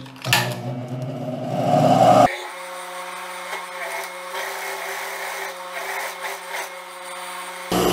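A sewing machine runs steadily, stitching a skirt's pocket facing right side to right side; a brief rustle of fabric comes first, then a continuous close motor hum and needle whir lasting several seconds.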